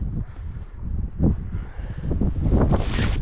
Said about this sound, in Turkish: Çünkü rüzgar bir taraftan.